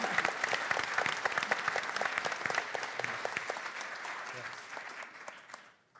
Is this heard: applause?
yes